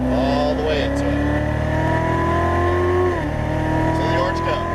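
Chevrolet Corvette Z06 Stingray accelerating hard on a track, engine droning loud and steady with rising pitch, easing once before climbing again.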